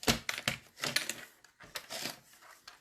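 Scissors snip through paper in a quick series of crisp, close cuts, a handful of short rasping strokes with brief pauses between them.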